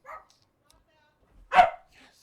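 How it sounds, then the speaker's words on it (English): A dog in an anime episode lets out one sharp, close bark after a faint short yip, with silence in between. "We're getting dogs barking."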